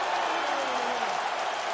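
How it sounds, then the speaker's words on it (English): Loud crowd of spectators cheering and applauding at a UFC fight, a steady roar of clapping and voices filling the whole arena. "This crowd is on its feet."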